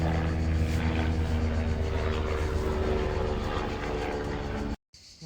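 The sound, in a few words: airplane flying overhead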